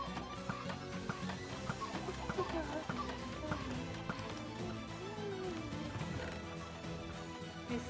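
Chickens cluck in the Minecraft video game amid a dense mix of game music and other in-game sounds, with several short clucks scattered through a steady, busy background.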